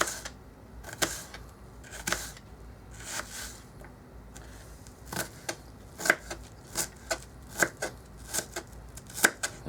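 A knife dices food on a cutting board while stuffing a Christmas turkey, giving sharp, irregular chopping taps that grow quicker and louder in the second half over a quiet background.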